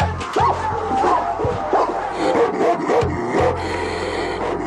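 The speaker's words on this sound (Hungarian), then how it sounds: "A Vlagyimir központi börtön őrző védőebei a világ legfélelmetesebb kutyái közé tartoznak." Guard dogs at Vladimir Central Prison in Russia bark and yelp in quick repeated bursts, loud and close, with whimpers and a noisy background mixed in.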